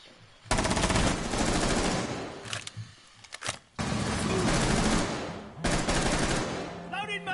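Rapid automatic gunfire from an online shooter video game bursts in long sustained volleys separated by brief pauses, loud and close, with a few short clicks and effects between bursts.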